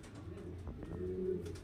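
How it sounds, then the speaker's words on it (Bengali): Pigeons of a high-quality breeding pair coo softly and repeatedly nearby, a low rolling murmur over quiet background noise. "এখানে দেখতে পাচ্ছেন একটা পেয়ার দুর্দান্ত কোয়ালিটির পায়রা"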